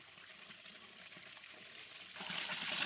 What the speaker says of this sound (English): this creek is flowing pretty good